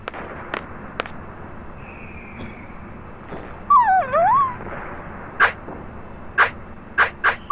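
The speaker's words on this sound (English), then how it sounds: "the dog alerts the soldiers" A dog in Final Fantasy VIII gives a rising and falling whimper-like cry and then several sharp, evenly spaced yelps or barks over a low game background, with no talk.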